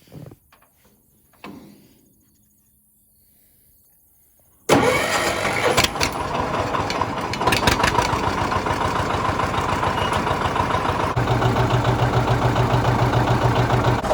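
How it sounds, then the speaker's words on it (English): A John Deere 730 diesel tractor engine cranks and fires after a quiet stretch, then settles into a loud, steady idle with a low chugging knock. "As you may be able to tell, the diesel engines sound a little bit different from the gas ones."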